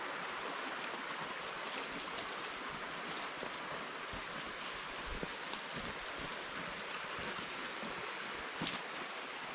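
Water in a mountain stream flows with a steady, soft broadband rush that stays even throughout, with light wind noise and no voices.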